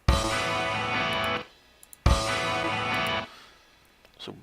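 Two loud, washy cymbal crashes layered with a kick thump, each ringing for about a second and a half before cutting off, then a brief quieter hit.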